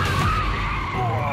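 A car drifts with its tires skidding in a sustained, loud, rough screech over engine roar, continuous through the whole moment.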